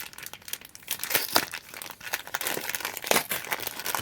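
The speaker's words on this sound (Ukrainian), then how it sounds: "Давайте відкриємо, я їх потім перекладу." A plastic package of stabilized moss is torn open and handled, giving steady close crinkling and crumpling with sharper tearing bursts throughout, with no talking over it.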